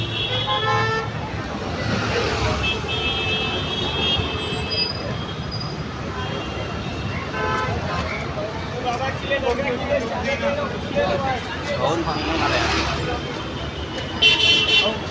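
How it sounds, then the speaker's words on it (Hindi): Busy Mumbai street traffic outside a railway station, a dense roar of passing vehicles with repeated car horn toots and a louder honk near the end, people talking over it. "देखते हैं आप लोग कितनी ट्रैफिक है इधर"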